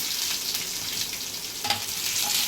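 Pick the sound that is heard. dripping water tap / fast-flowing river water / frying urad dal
frying urad dal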